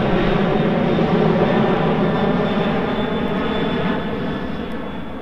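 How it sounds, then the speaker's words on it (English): Steady airplane engine drone from the visual novel game Remember 11, a loud, constant hum that holds through the whole stretch with a slight fade near the end, with no voices over it. "And she's on a plane."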